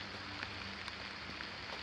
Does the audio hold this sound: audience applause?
no